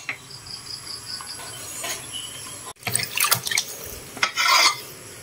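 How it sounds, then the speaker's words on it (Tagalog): Fresh pako fern leaves being rinsed and swished in a basin of water, with soft splashes and drips growing livelier in short bursts toward the end against a quiet background. "Hugasan lang po natin yung pako"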